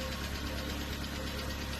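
A 2001 car's 4-cylinder 1.1-litre 60 hp engine idles steadily up close, a loud continuous rumble with an even low-pitched pulse and broadband mechanical hiss, with no talking.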